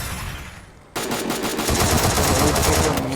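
Rapid Thompson submachine gun fire in the mobile shooter Free Fire breaks out abruptly after a quieter lull, a dense sustained burst of loud shots continuing to the end.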